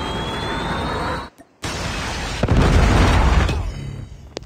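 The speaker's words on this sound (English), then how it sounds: "Friendly Predator missile inbound." A Predator missile explosion in Call of Duty: a loud, dense roar of rumbling blast noise with a sudden brief cutout, then a heavier booming surge that fades, no voice over it.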